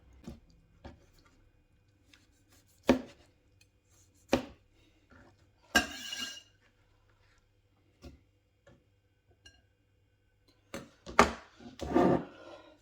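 Knife strokes on a board chopping ingredients for a minced beef casserole into small pieces, sparse sharp taps spaced seconds apart, ending in a quicker cluster of several chops, close and fairly quiet.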